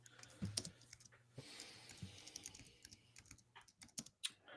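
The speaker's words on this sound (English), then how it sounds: "I hear typing" Someone types on a computer keyboard during an online book club chat, quick irregular key clicks close to the microphone, fairly faint overall.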